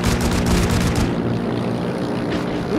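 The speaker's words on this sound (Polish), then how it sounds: "Jakiś samolot leciał." A loud droning propeller airplane engine in a video game, Heroes & Generals, roars steadily, then its tone shifts and thins as the aircraft passes over.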